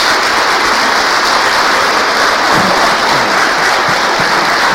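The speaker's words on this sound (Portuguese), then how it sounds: "Dê uma salva de palmas a Jesus." A church congregation claps for Jesus during a sermon, loud, close and continuous, with a rain-like hiss of many hands and no voices over it.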